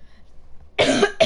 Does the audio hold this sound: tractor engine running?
no